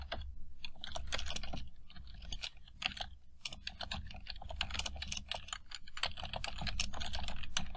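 Fast, steady typing on a computer keyboard while writing C++ code, dense close-up key clacks in uneven bursts with brief pauses.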